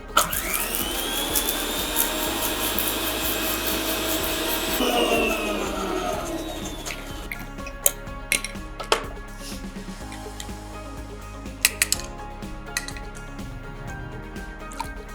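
An electric mixer grinder runs loud and steady for about six seconds as a spice mix is ground for a drink, then cuts off, leaving scattered clicks and small handling noises.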